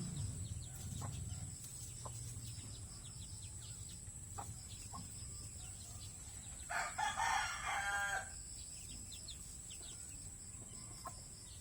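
Chickens in a backyard coop with black chicks and a mother hen, clucking and crowing in scattered bursts over steady ambient noise, with a louder flurry of calls midway; no talking.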